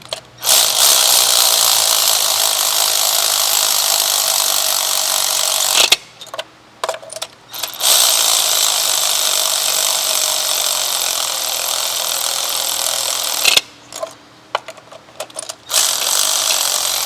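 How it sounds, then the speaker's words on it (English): Electric ratchet whirring loudly in long continuous runs while removing spark plugs from a 2014 Mazda CX-5, stopping twice for brief bursts of clicks and handling noise before starting again. "I'm gonna go ahead and use my ratchet, electric ratchet, speed up the process"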